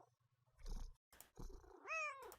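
A cat in a Nancy Drew video game purrs in low rumbling bursts and ends with a short rising meow, quiet and close.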